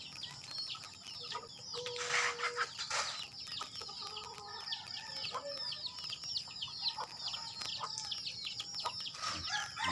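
Chickens clucking steadily nearby, with a louder squawk early on and a continuous chorus of cackles and chirps throughout.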